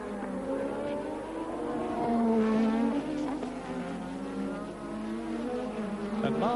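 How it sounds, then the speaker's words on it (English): A Formula One racing car with a sick, rough-running engine, heard as a buzzing, wavering engine whine with rising and falling pitch, moderately distant and steady throughout. "Mark Seure's engine is sounding rather sick"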